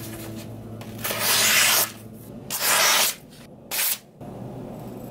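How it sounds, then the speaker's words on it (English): Glock knife blade being sharpened, with three separate close rasping strokes of steel drawn across a sharpener, spaced by short quiet gaps. "Let's see if we made it any sharper just by sharpening it up real quick."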